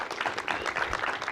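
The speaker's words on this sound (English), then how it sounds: "Please give them a round of applause" Brief applause for panelists at a Washington tech and veterans panel event, a short burst of moderately faint clapping from the audience, steady throughout.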